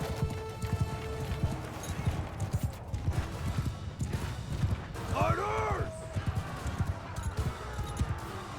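Horses' hooves clatter in a medieval battle in the video game Mount & Blade II Bannerlord, a steady clip-clop of several mounts beneath game ambience, with a brief ringing metallic swell midway; someone talks over it.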